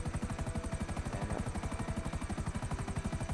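A helicopter flying in GTA V, a loud, close, steady rotor thump pulsing rapidly and evenly with a continuous engine whine throughout.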